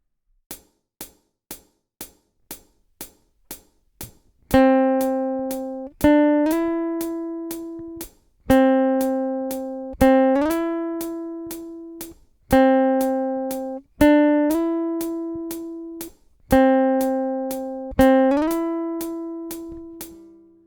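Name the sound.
guitar string plucked and slid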